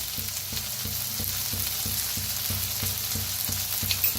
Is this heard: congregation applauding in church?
no